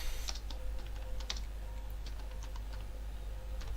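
Fingers type on a computer keyboard while writing Python code, giving quick, uneven bursts of crisp key clicks that are close and fairly quiet, with no voices.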